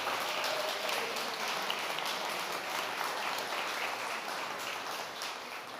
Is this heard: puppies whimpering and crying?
no